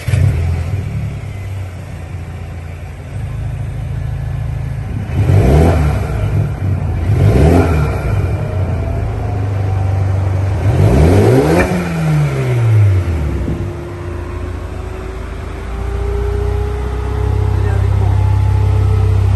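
A 2021 Mercedes-AMG A35 sits at a standstill, its exhaust rumbling at a steady idle. The engine is sharply revved three times, each rev rising and falling loudly. A voice speaks briefly over the engine.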